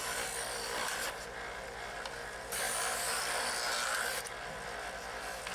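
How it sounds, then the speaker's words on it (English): A Chef's Choice electric knife sharpener at stage 3 grinds a knife blade with a steady buzzing whir that changes in texture as the blade is drawn through the slot. The sound is close, with no talking. "One thing about this sharpener is you don't want to push very hard. Let the machine do the work."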